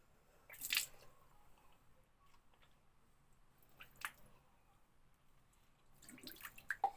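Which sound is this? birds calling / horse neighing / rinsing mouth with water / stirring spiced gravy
rinsing mouth with water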